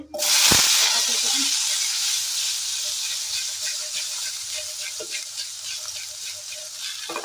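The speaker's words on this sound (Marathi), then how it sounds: "आता आपल्याला बटाटे परतून घ्यायचे. थोडंसं तेल टाकून घेते" Potatoes sautéing in hot oil with turmeric and red chilli give off a loud, steady sizzle and hiss, with a sharp burst near the start, then a continuous frying crackle that stays close and fairly even throughout.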